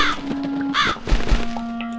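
Crow caws from The Cat Lady horror adventure game, two harsh calls standing out over a sustained eerie ambient drone with a faint low thump.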